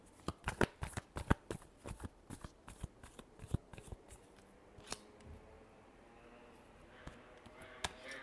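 Tarot cards being shuffled in a series of rapid, crisp riffling snaps, dense and close at first, then thinning to scattered soft flicks and a few sharp taps near the end, with no talking.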